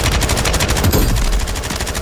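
Rapid bursts of automatic gunfire in a multiplayer shooter video game, loud and continuous, with booming low-end shots stacked densely over the whole stretch.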